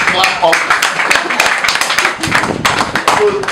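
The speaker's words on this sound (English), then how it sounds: "Give us a clap up." An audience at an outreach event claps in a dense, continuous patter of hand claps and taps, loud and close, with voices mixed in throughout.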